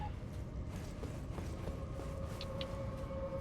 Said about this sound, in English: I opened the boss door, but I don't see him.